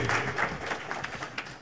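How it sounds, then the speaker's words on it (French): Audience at a gathering with Haitian President Jovenel Moïse claps for a performer named Bicoul, a short burst of applause that starts loudest and thins into scattered claps over under two seconds. "Je vous demande encore d'applaudir Bicoul, s'il vous plaît."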